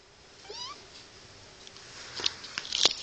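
A cat gives a few short meows, one early and several louder ones near the end, close and alone in a quiet room.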